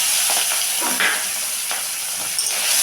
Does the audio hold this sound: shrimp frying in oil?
yes